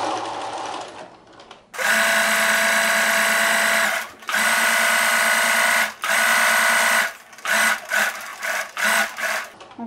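Sewing machine stitching along a marked line on a dress sleeve, running in loud close bursts of steady whirring, two long runs then a series of short stop-start stitches, with no talk.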